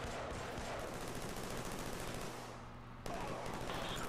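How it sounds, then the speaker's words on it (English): Rapid machine pistol fire in the Killzone 3 video game, a dense continuous rattle of shots that briefly drops off before bursting again, with no talk over it. "And I love this machine pistol."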